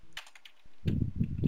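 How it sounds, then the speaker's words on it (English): Several people type on computer keyboards in a round-table setting, with light scattered clicks at first and then denser, louder clatter, close by and without talk. "Got a couple people typing now."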